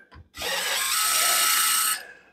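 Power drill spins a screw out of a refrigerator's rear panel in one continuous whirring run of about a second and a half, close and loud after a brief click.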